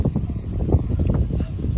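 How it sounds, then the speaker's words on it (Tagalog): Wind gusts buffet the microphone outdoors, a rough, low rumbling whoosh that rises and falls over a couple of seconds. "Ganyan ang hangin dito sa amin mga kagulay."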